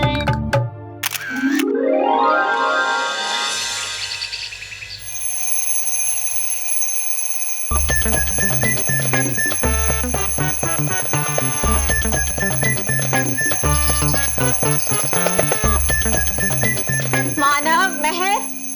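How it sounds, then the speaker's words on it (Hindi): An alarm clock rings loudly and continuously in a household, its bright repeating bell pattern running for most of the stretch after a brief chime and camera-like clicks at the start. "ये अलार्म क्लॉक इन लोगों को जगाने के लिए होता है"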